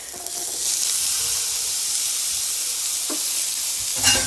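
Beets and onions sizzle in a frying pan, a steady close hissing fry with faint stirring scrapes and a louder burst near the end as more food hits the pan.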